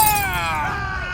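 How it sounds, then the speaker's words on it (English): Wine bottle shattering, a short bright burst of breaking glass with ringing shards fading over about a second, close and loud. "One of the thugs smashed his wine bottle over Bilal's knee."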